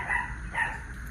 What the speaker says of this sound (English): I'm sorry, Smudge is barking